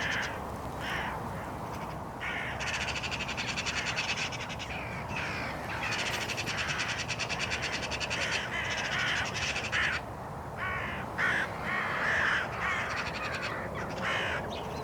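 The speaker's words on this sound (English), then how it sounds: "The crows are making a real racket" Many crows caw loudly and continuously, overlapping harsh calls from several birds close by, a noisy chorus with no pauses.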